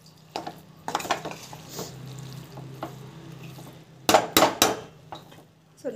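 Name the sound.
sautéing food in a pan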